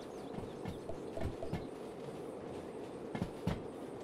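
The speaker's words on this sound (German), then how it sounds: "Einfach mal die Dampflok fernsteuern." A remote-controlled steam locomotive in Derail Valley runs steadily, a faint, continuous rolling rumble broken by rhythmic clanks and knocks from the wheels and couplings.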